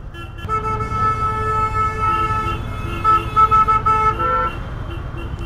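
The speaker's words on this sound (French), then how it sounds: "s'amuse avec le klaxon" Car horns honk repeatedly in short bursts and a longer tune-like pattern amid busy traffic noise and a crowd murmur.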